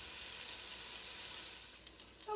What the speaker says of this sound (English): So saute them up and make them nice and soft.